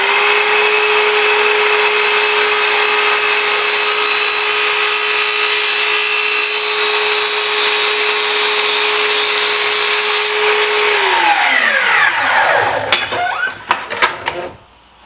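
A power saw fitted with a Festool blade cuts plywood with no dust collection, giving a loud, steady high whine for about eleven seconds before the blade spins down with a falling pitch and a few clattering knocks.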